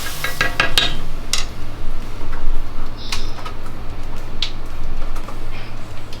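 A spoon scrapes and clinks against a pot while broccoli cheddar soup with milk is stirred, a few sharp metallic taps early and then soft scraping strokes, close up with no talking.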